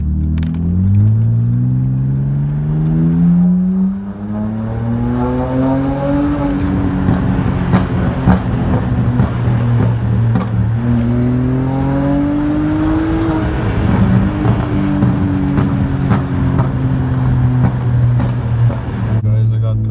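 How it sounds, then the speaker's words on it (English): A BMW 328i engine burbles and revs, its pitch rising and falling in several sweeps over a steady rumble, loud and close. People talk over it. "this is a good chance so you could hear my brother's 328 burble"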